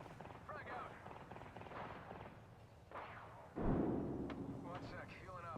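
In the video game Apex Legends, a frag grenade goes off as a single deep, heavy boom partway through, rising sharply above quieter gunfire and game effects, with voices talking over the scene.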